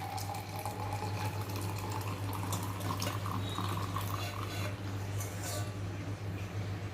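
Water is poured through a filter while making a homemade healthy drink, giving a steady, continuous splashing trickle close by with a low hum underneath and faint talk at times.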